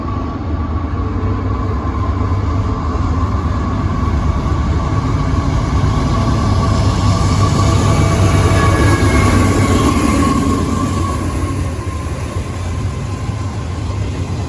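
CSX Q008 freight train rolling past at close range, a loud steady rumble and clatter of rail cars with high wheel squeal sustained throughout.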